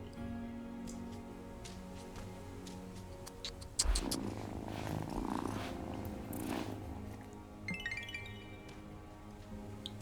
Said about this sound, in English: Okay, we'll say hello to the cat.